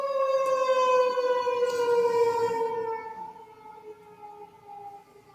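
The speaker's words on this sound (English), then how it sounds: "Sorry about the sirens" Wailing fire engine sirens drawn out and slowly falling in pitch, gradually fading as they move farther away.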